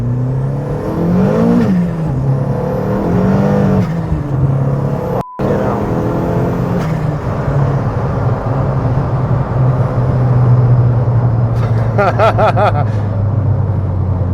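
A Vauxhall Corsa Turbo accelerates hard from about 20 mph, its engine droning steadily loud from inside the cabin as revs climb and fall through gear changes, with a brief cut midway and rattling buzz near the end.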